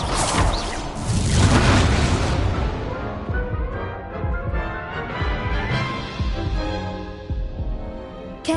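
An Incendio fire spell blasts out in a Harry Potter video game, a loud whooshing burst with heavy booming rumble that swells, then fades into a lingering throbbing tail before a brief sharp hit at the end.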